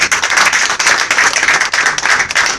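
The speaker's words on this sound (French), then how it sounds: "Applaudissez pour Dieu" Worshippers at a church testimony service clap in praise to God, loud and close, a thick burst of applause with a slightly pulsing rhythm lasting a few seconds.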